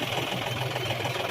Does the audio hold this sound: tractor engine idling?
yes